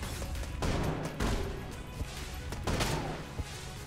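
Gunfire in the video game Enter the Gungeon, a string of rapid, moderately loud shots and bursts in uneven clusters, with crashing impacts between them.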